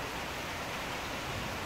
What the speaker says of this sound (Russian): Вот и пошел дождь.